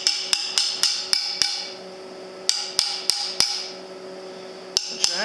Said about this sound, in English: What you gotta do is get all that slag off of there so you don't have a slag inclusion.